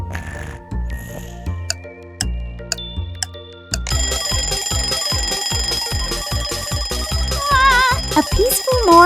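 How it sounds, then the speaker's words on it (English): A cartoon alarm clock in a Bluey morning scene rings out, first as sparse spaced tones, then as a loud continuous rapid ringing pulse that keeps going, with a few squeaky warbling sounds near the end. "A peaceful morning begins with the usual battle between Bluey and the alarm clock."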